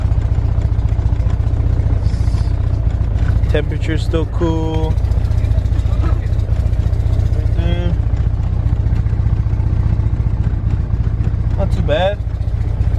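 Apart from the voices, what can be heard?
turbo car engine idling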